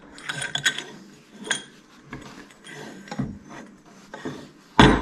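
A Harley 41 mm fork lower leg slides onto its tube, giving scattered metallic scrapes and rubbing clicks, then a sharp loud clunk at the end.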